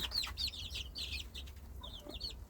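Chickens and young chicks of a dark-feathered breed cluck and peep repeatedly while grazing on grass and pecking rice outdoors at midday, a busy overlapping chorus close by with no talk.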